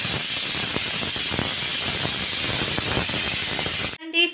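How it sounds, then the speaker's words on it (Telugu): Pressure cooker cooking broad beans on a stove lets out a loud, steady steam whistle and hiss lasting about four seconds, then it cuts off abruptly. "ఒక విజిల్ అయితే వచ్చింది, ఇంకా 2 విజిల్స్ మనకి రావాలి."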